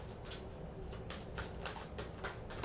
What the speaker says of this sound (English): These cards aren't shuffling as good as they used to.